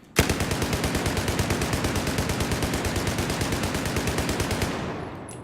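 A U-100 MK5 light machine gun in Battlefield 4 fires one long, unbroken burst of rapid, evenly spaced shots for about four and a half seconds, loud and close, then cuts off into a brief fading tail.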